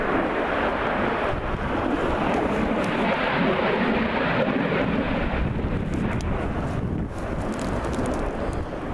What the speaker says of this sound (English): we've got an aeroplane coming over